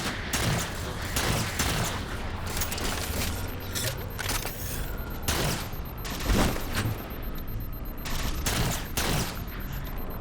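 Shotgun blasts from Halo 4 on Xbox Series S, several loud booming shots spaced irregularly over steady game ambience and mechanical clanks.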